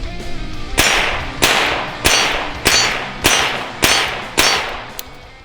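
Seven sharp pistol shots from a Walther Model 8, a 1920s semi-automatic, fired at a steady pace about two-thirds of a second apart, each crack loud and close with a short ringing decay, no talk.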